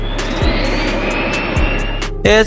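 An aerial firefighting airplane's engine drones loudly and steadily with a slowly falling whine, close and continuous, joined by a brief burst of other noise at the end.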